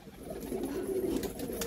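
Pet pigeons coo softly in a low, rolling murmur that continues through the short moment, fairly close and unaccompanied by talk.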